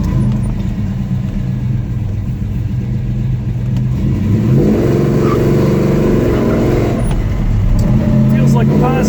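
A 1972 Chevelle SS clone with a four-speed manual gearbox revving hard as it accelerates in cold weather, a loud, rising mid-pitched engine roar heard from inside the car.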